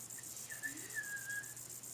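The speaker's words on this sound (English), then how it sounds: "the whistle blowed, so you guys have to line up so we can go to lunch" A recess whistle at a Littlest Pet Shop toy play scene sounds as one thin, wavering high tone lasting about a second and a half, faint under a steady hiss with no talking.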